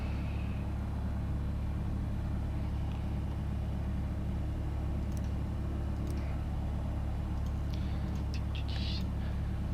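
A Piper Cherokee engine idling at 1000 RPM in a flight simulator: a steady low drone and rumble that holds level throughout, with a few faint high chirps near the end.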